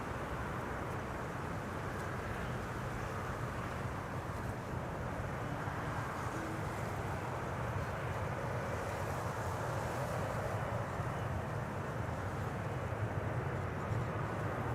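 An airliner lands on Kaagbaan runway 06 at Schiphol airport with idle reverse, heard as a steady, broad roar blended with gusty wind buffeting the microphone for the whole stretch, with no voices.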